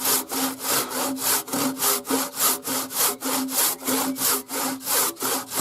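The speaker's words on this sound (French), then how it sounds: "si la scie est en bon état, il faut lui laisser faire le boulot." A hand saw rasps through a timber log in steady back-and-forth strokes, about two per second, close and alone, during traditional timber framing.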